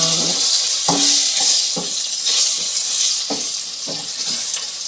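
Ingredients for a mung bean dish sizzle loudly in a frying pan at close range, a steady hiss of browning broken by several sharp scrapes and knocks of a utensil stirring against the pan.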